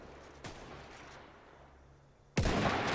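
Two muffled gunshots ring out in Mount & Blade Warband, one faint early crack and a louder, sharper shot near the end, both set against a quiet background.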